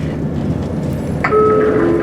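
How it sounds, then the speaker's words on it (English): Train arriving into Beverley station in East Yorkshire, a rumbling rolling roar followed by a sharp squeal of brakes as it slows, loud and close. "Train is now just arriving into Beverley."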